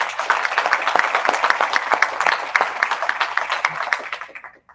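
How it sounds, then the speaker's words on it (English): At a pitch competition, an audience gives a round of applause: a fairly loud burst of rapid, dense clapping that fades away near the end. "So can we give them another round of applause?"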